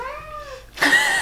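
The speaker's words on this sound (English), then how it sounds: "My cat won't stop meowing" A pet cat meows in a rising, drawn-out call, then a louder, harsher yowl follows, close and clear with no talk over it.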